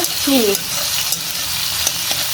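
Onion, tomato and green chilies frying in fish oil are stirred in a pan, giving a steady loud sizzle with scraping, alone without talk.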